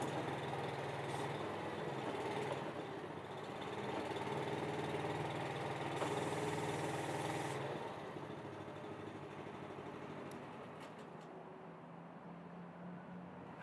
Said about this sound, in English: you've got the machine started, you've driven it into position